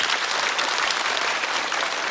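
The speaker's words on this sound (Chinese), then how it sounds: "再次掌声送给贾浩" A studio audience at a stand-up comedy show claps for the comedian Jia Hao, dense, even applause from a large crowd filling the whole moment.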